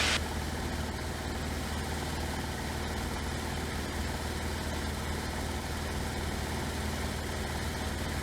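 A Luscombe light aircraft engine held at full throttle gives a steady, continuous drone heard from inside the cabin, loud and unchanging throughout, with no talk over it.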